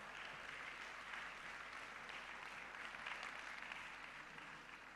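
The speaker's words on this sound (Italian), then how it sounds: "Lorenzo Zanotti, Mirko Galeazzi, che intanto col vostro applauso si accomodano da questa parte." An audience at a CNA Emilia-Romagna assembly applauds as people take their places on stage, a steady, even wash of many hands clapping, fairly distant and soft throughout.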